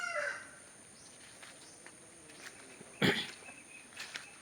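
Pet poultry calling outdoors around a farm hut after typhoon damage: scattered, fairly distant squawks and clucks over quiet background, with one louder, sharper burst of calls partway through and no one talking.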